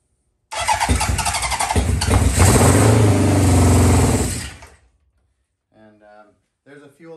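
A 1977 Honda CB 750K motorcycle firing up on starting fluid through the carbs, cranking then catching into a loud rough idle for a few seconds before dying out, followed by brief speech.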